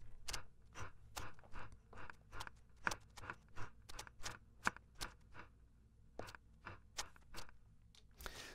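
Carrot-cutting texture sounds, made as designed sound effects, give a steady series of sharp, crisp crunching snaps with an even, chopping rhythm, close and fairly quiet, with no voices.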